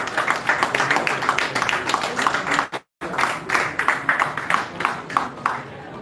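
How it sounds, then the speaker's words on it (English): Dense audience applause at a men's mental health panel session fills the room steadily, loud and close, with a brief dropout near the middle before the clapping resumes at the same strength. "Please let's put our hands together"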